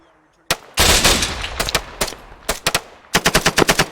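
Machine gun fire in the military shooter ARMA 3 hammers out in loud, close bursts: a sustained opening stream, then short, clipped volleys and a final quick string of evenly spaced rounds.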